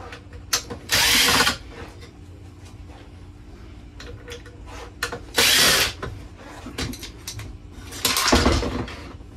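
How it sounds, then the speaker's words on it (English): A Phillips screwdriver backs out small screws from the rear of a 27-inch monitor, giving three bursts of loud, close ratcheting and scraping over a quiet room with scattered light clicks. "So let me take those four little screws."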